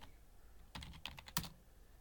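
Someone types a short compile command on a computer keyboard, about half a dozen quick key clicks bunched within a second, close and fairly quiet in an otherwise still room with no voices.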